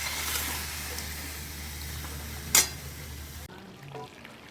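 Spiced chicken stew is stirred in a hot pan, a steady frying hiss with a sharp clink of the utensil before the sizzle abruptly drops away to quieter kitchen sounds.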